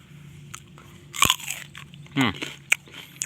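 Crunchy fresh date fruit bitten and chewed up close: a sharp crisp bite followed by a few wet chewing crunches, with a brief voiced sound in between.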